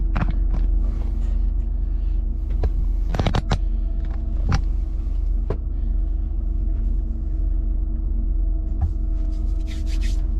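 A Land Rover Discovery 2 runs on its first drive, giving a steady low engine rumble from inside the cabin with scattered knocks and rattles throughout.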